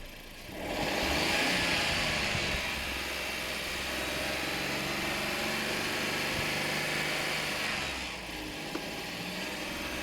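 A BMW car engine runs steadily at raised revs, around 3,000 RPM, for several seconds, a loud sustained drone that eases off near the end.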